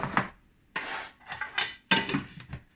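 Sugar tipped from a quarter-cup measure into a sweet scone mixture in a bowl: three separate bursts of scraping, rattling contact, close and fairly loud, with brief quiet gaps between them.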